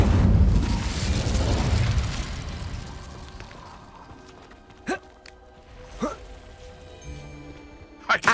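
Incendio fire spell in Hogwarts Legacy: a loud, rumbling fiery burst at the start fades over a couple of seconds, followed by a few sharp, quieter pops and whooshes spaced apart.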